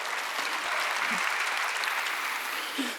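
A church congregation applauds steadily during a Wednesday worship service, a dense wash of clapping that holds at an even level throughout.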